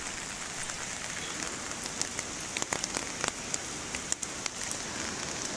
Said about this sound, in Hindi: तो बहुत बारिश है अभी